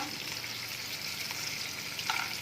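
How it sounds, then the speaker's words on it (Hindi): Almonds, pistachios and cashews fry in melted butter, making a soft, steady sizzle with a faint clink near the end, no voices. "और काजू ये डाल के इसे हमने फ्राई कर लेना है"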